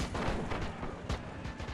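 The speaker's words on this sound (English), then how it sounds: "Let's see if this artillery cannon can lend any more support." Artillery cannon fire in a Civil War–style video game battle at Pork Chop Hill, heard as dense, continuous booming with overlapping blasts and a sharper report near the end, loud and without talk.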